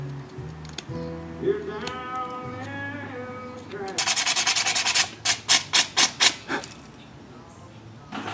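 Hand-sanding a carved wooden hornet lure with sandpaper gives a run of close, rhythmic rasping strokes, about eight short loud scrubs in a row, after a stretch of quieter tonal sound.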